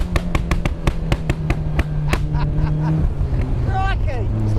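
Tuned Mazda MX5 exhaust crackling out a rapid string of loud pops and bangs, like machine-gun bursts, over a steady engine drone, fading into rumble as a voice speaks near the end.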